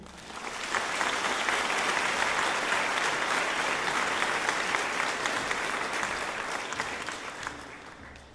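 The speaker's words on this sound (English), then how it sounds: "please give a good round of applause for Anna" A physician assistant graduation audience gives a sustained round of applause that swells quickly, holds steady and dense for several seconds, then tapers slightly, with no voices over it.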